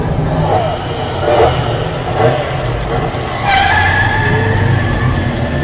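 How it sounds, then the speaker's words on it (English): A racing car engine drones and roars loudly and steadily in the Road Fury arcade driving game, with tire skids rising over it near the end. "Start engine."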